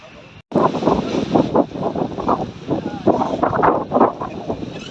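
Strong gusting wind buffets the microphone in heavy rumbling bursts after a short quiet start, loud and close.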